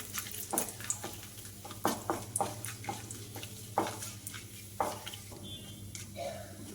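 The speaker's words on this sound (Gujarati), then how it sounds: "તેલ આવી ગયું છે, તેમાં આપણે નાખીશું આ બધા મસાલા. થોડીક વાર હલાવીશું." Whole spices such as cardamom and cloves sizzle in hot oil while a spoon stirs them, giving a soft steady hiss broken by repeated scraping clicks against the pan, quiet and close.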